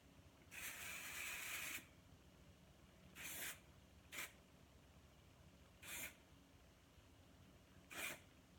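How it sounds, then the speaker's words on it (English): Rene Furterer texture spray misted onto hair in five quick hissing bursts, the first a long spray of over a second and the rest short puffs spaced a second or two apart, close and fairly quiet with no talk. "I spray this in, it gives it a little texture"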